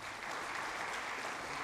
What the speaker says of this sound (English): May I request all of you to please welcome the chief guest with a huge round of applause.